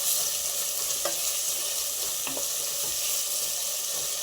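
Green chilies sizzling in a hot pan for kushka rice, a steady frying hiss with a few faint stirring clicks, close by with no voices.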